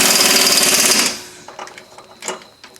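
A pneumatic impact gun, turned down low, drives front brake hardware bolts on a 1998 Subaru Outback, giving one loud rattling burst of about a second, then a few faint clanks of tools nearby.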